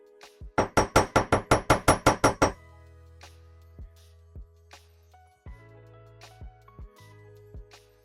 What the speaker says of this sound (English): I go to the side and I'm gently hammering it in so that to keep it straight